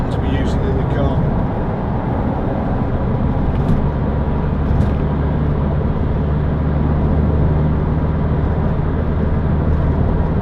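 A 2006 Toyota MR2 1.8 VVT-i Roadster driving on a country road, its engine a steady low drone with road and wind rumble heard from inside the cabin, continuous and fairly loud.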